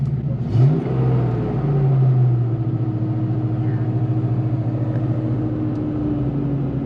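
A Ford Fox Body Mustang GT 5.0 V8 revs briefly, then hangs at elevated idle as the sticky throttle slowly falls back, heard close and loud with a steady rumbling drone and no talk.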